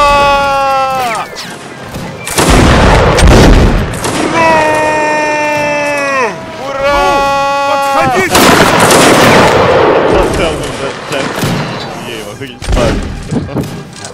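Musket volleys and battlefield gunfire in the Napoleonic Wars mod of Mount&Blade Warband: loud, sharp booming shots in bursts across the clip, with trumpet and horn calls and crowd shouting mixed in, and players talking over it.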